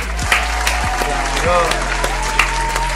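Several sharp hand claps land at irregular intervals over a steady music track, accompanied by someone talking.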